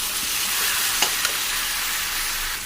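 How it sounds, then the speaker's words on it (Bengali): Coriander and cumin powder sizzle steadily in a pan of hot oil, a continuous close hiss with a couple of sharp stirring clicks partway through. "ভালো করে মশলাটাকে কষিয়ে নেব"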